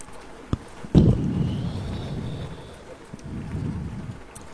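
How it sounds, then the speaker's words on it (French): Thunder cracks with a sharp onset and rolls on in a low rumble, followed by a second, softer swell, over a steady hiss of rain falling outside during a storm. "Tu comptes jusqu'au coup de tonnerre et tu attends le prochain flash qui éclaire les cieux"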